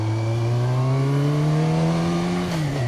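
A 1987 Yamaha FZR1000 motorcycle engine, up close and loud, its tone rising smoothly as it revs and then dropping back off near the end.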